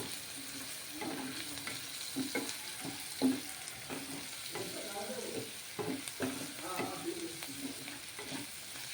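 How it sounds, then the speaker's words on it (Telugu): Ginger and garlic fry in hot oil for a Telugu okra masala curry, a soft steady sizzle broken by scraping stirs of a spoon in the pan, close and fairly quiet. "అల్లం వెల్లుల్లిపాయ నూనెలో కొంచెం వేగాలండి వేగితే బాగుంటుంది"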